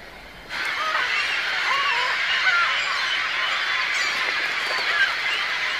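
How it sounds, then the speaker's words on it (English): A crowded gannet nesting colony fills the air with continuous harsh, overlapping squawks and cackles as birds squabble over food and territory, a dense, loud chorus that begins abruptly and carries on without pause. "Gannets, nesting close to one another, squabble with their neighbours over food and territory."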